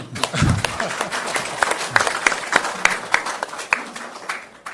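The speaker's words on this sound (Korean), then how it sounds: "박수 한번 칩시다" Applause at a Suwon city directors' meeting: scattered hand claps from a small group, uneven and fairly close, with a brief voice near the start.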